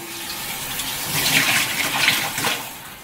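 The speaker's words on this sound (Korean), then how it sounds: "근데 이게 씻혀져 있지 않아서 과일을 씻어 볼 거예요." Tap water running in a steady, splashing gush as strawberries and other fruit are washed under it, close and continuous with no voices.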